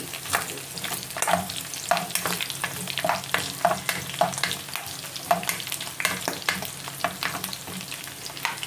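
Garlic and onion frying in a pan for pata humba, a steady close sizzle with repeated stirring scrapes and clinks of a utensil against the pan throughout.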